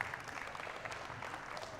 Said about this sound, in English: Give them a round of applause to the boys and the girls